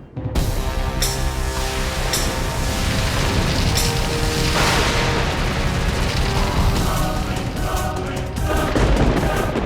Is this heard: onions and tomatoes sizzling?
no